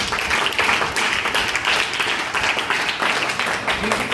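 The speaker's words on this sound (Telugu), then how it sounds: "అందరూ టీచర్ గారికి క్లాప్స్ కొట్టండి." An audience at a best-teacher award ceremony breaks into sustained, dense applause honouring a teacher, many hands clapping steadily and loudly for the full stretch.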